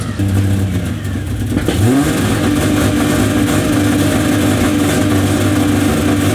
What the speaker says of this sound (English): Gotta find the right amount of throttle.